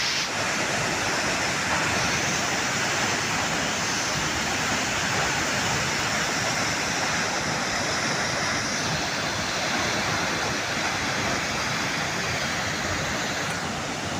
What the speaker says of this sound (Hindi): ये दुनाव का झरना क्योंकि नया नदी है नीचे और ऊपर से गिर रहा है झरना